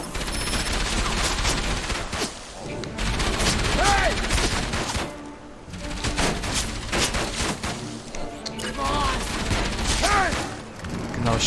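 Gunfire in the video game Enslaved: Odyssey to the West: sustained bursts of rapid shots and mechanical clatter filling the scene, loud and continuous with short lulls, while someone talks over it.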